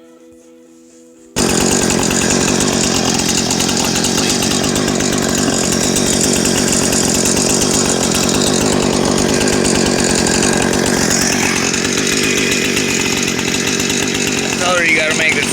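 A loud, continuous mechanical whine of a drill or power tool starts abruptly after a brief quiet moment and grinds on steadily, with some faint talk underneath.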